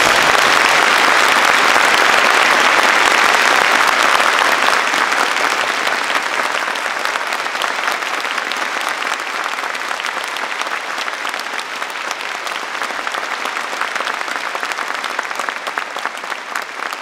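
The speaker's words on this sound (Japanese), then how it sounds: "ぜひとも拍手をお願いします。" Sustained, loud audience applause fills a hall after a Japan Ground Self-Defense Force 3rd Division band concert, a dense steady clapping that eases slightly but continues throughout.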